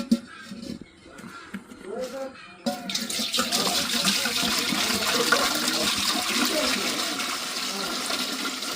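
Water pours and splashes into a clay pot set on an outdoor fire for porridge, a steady running gush that starts abruptly and continues loud to the end, with voices talking underneath.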